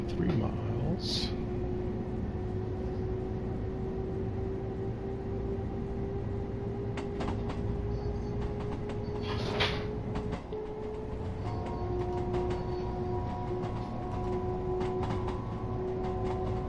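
An LIRR commuter train in a PS5 train-driving game rolls along with a steady rail rumble and a sustained motor whine, joined by occasional clanks and a tone shift near the end, heard fairly quietly.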